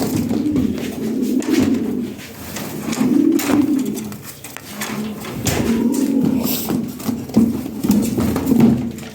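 Pigeons coo in low, throaty rolling phrases that repeat throughout, several birds close by amid shuffling and rustling noises, with no talking.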